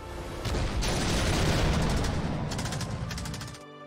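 Video game gunfire from a World Ablaze mod: a dense, continuous rattle of rapid shots and booms lasting several seconds before cutting off abruptly.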